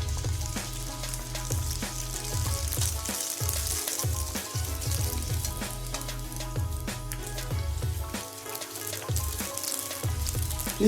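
Cinnamon and lime zest mandazi fry in hot oil with a steady, bubbling sizzle and crackle, fairly soft and continuous, with no voices.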